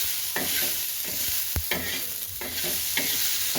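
Chillies and garlic roasting in a pan, with a constant close sizzle broken by repeated scraping strokes of a spatula stirring at an uneven rhythm and one sharp knock, no voices.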